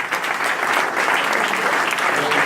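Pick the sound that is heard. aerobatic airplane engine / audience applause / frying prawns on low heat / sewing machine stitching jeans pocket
audience applause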